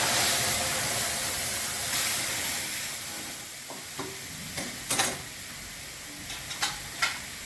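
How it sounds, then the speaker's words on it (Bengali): Lentils poured into hot frying onions for a Bengali masoor dal with jute leaves, giving a steady close sizzle with stirring scrapes and a few sharp clinks near the end, no talking. "পেঁয়াজটা ভাজা হয়ে গেছে, এবার আমি ডালটা ঢেলে দিচ্ছি।"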